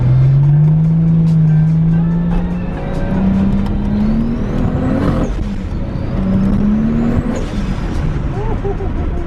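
A Toyota Supra engine revs up and accelerates hard, the turbo spooling before the pitch climbs in repeated surges with a turbo whine, loud and close, with voices talking over it.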